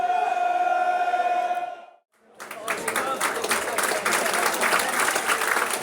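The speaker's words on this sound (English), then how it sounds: "Applause for the subs warming up." Football crowd at Cambridge United against Millwall applauding as substitutes warm up, broad sustained clapping and murmur from a large stand, following a brief drop to near silence after a tonal opening.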